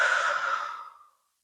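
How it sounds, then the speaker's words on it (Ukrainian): One calm, slow exhale during a breathing exercise for lower back pain, a soft breathy sigh close to the listener that fades out smoothly over about a second. "І спокійний видих."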